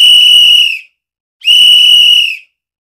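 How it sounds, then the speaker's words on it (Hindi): Two long, steady high-pitched whistle blasts, each about a second, loud and clear with a pause between, in a quiet night scene at a deserted railway station in a horror story. "अचानक उसने दूर से एक सीटी की आवाज सुनी।"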